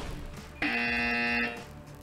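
Quiz buzzer at a corporate quiz contest sounds once, a loud steady electronic tone lasting just under a second, alone in a quiet hall.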